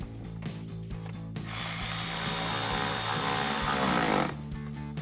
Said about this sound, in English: we'll tighten that down with our 8mm socket